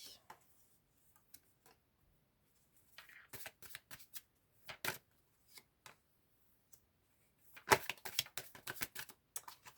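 Tarot cards are shuffled by hand in quiet surroundings, with scattered soft riffles and card snaps at first, then a denser, louder burst of rapid flicking toward the end.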